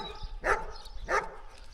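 Two sharp barks from a dog travelling with its owner in a camper, heard outdoors on a nature hike on Crete, spaced about half a second apart over a low background rumble.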